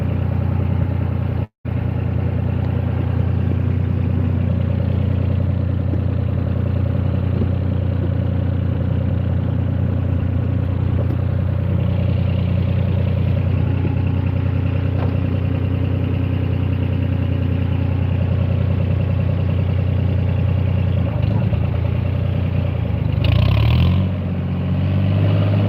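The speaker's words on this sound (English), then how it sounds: "let's see if we can't take the tractor down there" A tractor engine runs steadily on a rural property, with a low, continuous near drone that holds for the whole stretch and shifts briefly in pitch near the end.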